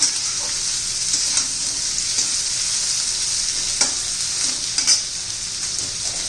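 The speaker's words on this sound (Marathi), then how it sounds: "तेल गरम झाले त्यामध्ये ना आपण हा दोडका घालून घेऊ आणि चांगला आपला परतून घ्यायचा आहे दोडका" Ridge gourd sautés in hot oil, a loud, bright, steady sizzle close up, with occasional scraping stir clicks scattered through.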